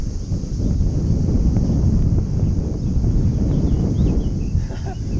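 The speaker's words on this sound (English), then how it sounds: "You're not going to be able to hear anything over that wind" Strong wind buffets the microphone during a cycle tour, a loud dense low rumble with constant gusting that drowns out everything else.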